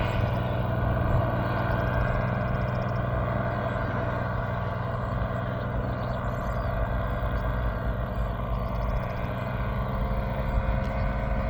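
A small aircraft flies over a runway, its propeller engine droning steadily and loudly for the whole stretch with no break, a continuous low buzzing hum heard without any talk.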